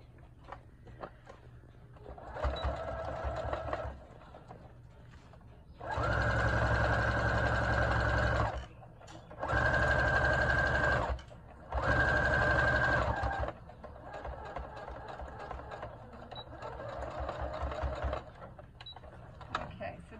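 Sewing machine stitching along the edge of a filter face mask, running in several bursts of steady whirring separated by short pauses, with quieter stretches between runs.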